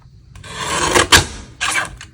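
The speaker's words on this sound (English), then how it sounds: "I'm just going to pull my little cutter over here. Trim this out a little bit." Paper being trimmed with a small cutter: a short broadband slicing rasp near the middle, then a second brief scrape, close and fairly loud with no talk.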